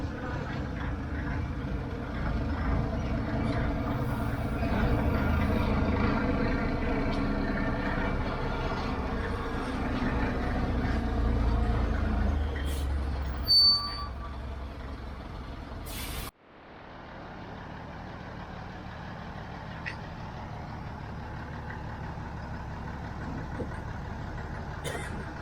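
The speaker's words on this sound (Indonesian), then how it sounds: "ini mobil pengangkut tiang pancang yang kedua nih teman-teman, yang sudah datang" A heavy truck hauling concrete piles for bridge construction rumbles in loudly with a steady engine drone, then a brief hiss and a sharp air-brake release around midway. Quieter idling follows, with no talking.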